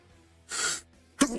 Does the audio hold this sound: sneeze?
yes